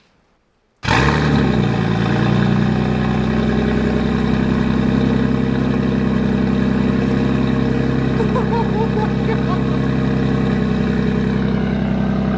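A Toyota Supra engine fitted with a catless Tomei Expreme Ti titanium full exhaust bursts to life after silence and settles into a loud, raspy, rumbling idle that continues steadily without a break.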